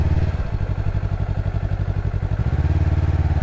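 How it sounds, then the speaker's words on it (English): A motorcycle engine idles with a low, pulsing throb, its rhythm shifting slightly as power is added and the clutch is eased out, close and steady with no talking. "If I put some power on and start to slowly release the clutch, see how it's starting to move?"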